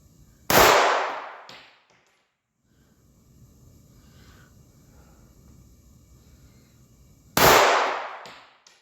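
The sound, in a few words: gunshots from a Ruger EC9s pistol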